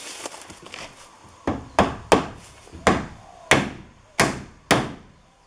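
Sharp hammer blows drive nails into wooden wall studs while fixing plywood siding, about eight strikes in an irregular rhythm, close and loud, with a few lighter taps at the start.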